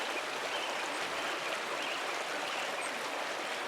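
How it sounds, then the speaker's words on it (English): A waterfall in the Pentiment video game pours in a steady, dense rushing wash that stays even and unbroken throughout, with no voices over it. "Let's just leave you with these beautiful waterfall sounds."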